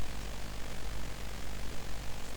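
Hover helicopters in the Sega game Urban Strike give off a steady, loud, rumbling rotor-like drone with a pulsing low throb, alone without talk.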